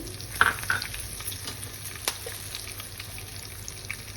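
Green chillies, mustard seeds and cumin are stirred in a hot pan for a Telugu dal with gourd. The sizzle stays low and steady, with a few sharp scraping clicks near the start and a single louder knock midway. No voices.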